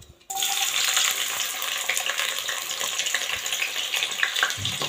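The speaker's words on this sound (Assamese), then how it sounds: "মই কেৰাহীত তেল লৈছোঁ। এতিয়া পিঁয়াজখিনি মই দি দিম।" Onions tipped into hot oil in a wok burst into a loud, steady sizzle that continues close by without letting up.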